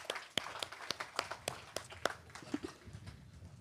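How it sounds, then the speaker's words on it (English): Sparse applause at a built environment expo, individual sharp claps spaced irregularly, fairly quiet and thin as though from a small audience. "Can I get a round of applause for their efforts?"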